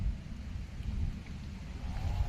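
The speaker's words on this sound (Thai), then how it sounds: "ฝนเริ่มลงเม็ดใหญ่แล้วแต่มันยังลงไม่หนักนะ" Big raindrops beginning to fall outdoors near a small overflow weir, a steady soft patter with low rumbling thuds underneath, fairly close and without talk.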